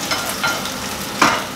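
Tuna stir-fries in a pan with tomato added, a close, steady sizzle broken by a few scraping stirs, the last one sharper and louder, with no talk.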